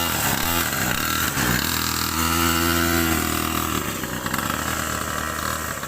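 A 49cc two-stroke kids motorbike engine runs loudly up close, a buzzing, raspy idle with small rises in revs throughout.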